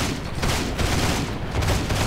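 Gunfire in the World War II shooter game Heroes and Generals, a loud dense barrage of shots and booms that fills the whole stretch with no pauses.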